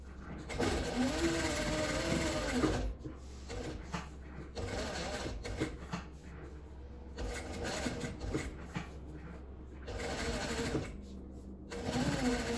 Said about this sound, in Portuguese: Agora eu vou passar uma costura aqui em volta dele todo, prendendo, para recortar.